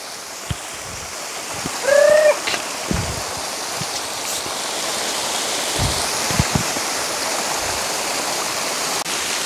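Continuous rushing water from the Darimalli waterfall fills the scene as a steady broadband roar, with a few faint knocks and a brief whistle-like call near the start.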